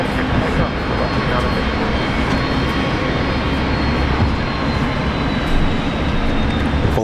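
A Velocity airliner takes off from runway 19 left at Brisbane Airport, its jet engines giving a loud, steady, broad roar that holds throughout without fading.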